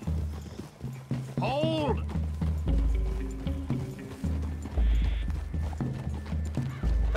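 Horses in the video game Red Dead Redemption 2 move with close, rhythmic hoof clip-clops and a whinny early on, while a voice calls out over them.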